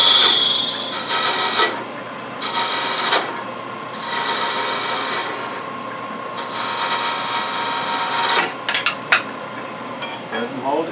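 A lathe gouge makes a light finishing cut on the top of a spinning cherry burl box lid. Bright scraping rasps come in several bursts of about a second each, with short pauses between them and a steady motor hum underneath.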